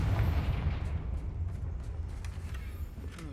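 A Confringo fire spell blasts in the Hogwarts Legacy video game, giving a loud, booming low rumble that holds steady for several seconds with faint crackles on top.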